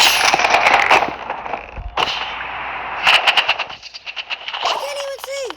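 Assault rifle fire rings out in a shooter video game: loud, close bursts of rapid automatic shots, broken by short pauses, followed by a brief tonal game effect at the end.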